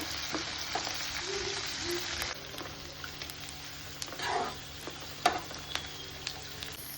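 Curry leaves and green chillies crackle in hot oil for a tempering, with steady close sizzling that drops after a couple of seconds, followed by scattered pops and a few sharp spatters.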